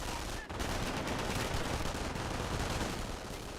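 MG42 machine gun fire in Company of Heroes, a dense continuous rattle of rapid shots with battlefield noise, loud and unbroken apart from one brief dip near the start.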